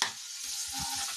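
Onions frying in a pan as ginger, green chili and spices go in, a steady bright sizzle with low thuds of stirring and ingredients dropping into the oil.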